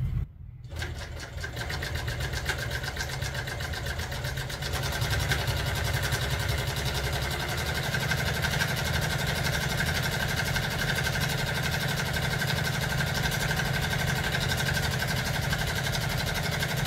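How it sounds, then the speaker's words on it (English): Industrial upholstery sewing machine stitching welt for an old truck seat, a loud, steady motor hum and rapid needle chatter that starts after a brief quiet moment and runs continuously and close. "and then I just start sewing."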